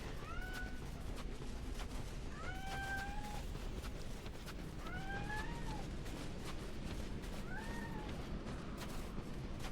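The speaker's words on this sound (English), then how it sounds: "He's meowing at me." A cat meows four times at a slow, uneven pace, each call clear but moderate in level above a constant low background hiss.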